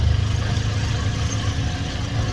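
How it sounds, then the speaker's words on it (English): Steady engine drone of a tuk-tuk carrying passengers between Udaipur and Mumbai, a continuous low rumble with no clear revving, close and even in level throughout. "So we're in the tuk-tuk now"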